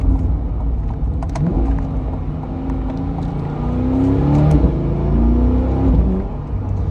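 A modded 2021 C8 Corvette engine rumbles up close as the car downshifts, its pitch stepping up with each snappy gear change over a continuous loud growl.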